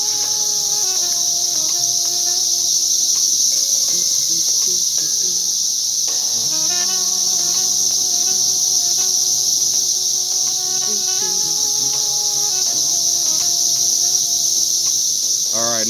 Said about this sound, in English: Damn locusts are trying my patience.